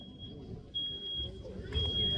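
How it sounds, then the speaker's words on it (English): A smoke alarm sounding inside a house during a fire district drill, a steady high-pitched electronic tone heard from a distance in intermittent stretches over outdoor rumble and vehicle noise. "You can hear now the smoke alarm went off inside the structure"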